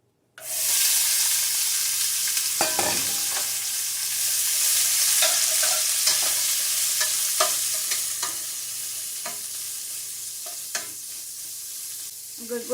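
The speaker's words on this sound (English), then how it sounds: "My pan is sizzling, so I'm going to add a little bit more olive oil" Bell peppers sizzle in olive oil in a hot pan, a steady broad hiss with occasional pops and brief stirring clatter, close and continuous with no talking.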